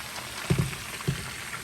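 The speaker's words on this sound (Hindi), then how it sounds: "अब हम उसको निकाल लेंगे और जो चिकन रहता है उसको डाल देंगे। उसको भी अच्छी तरह से फ्राई कर लेंगे।" Chicken pieces fry in a pan for chicken karahi, giving a soft steady sizzle with a few louder pops and crackles, close and alone.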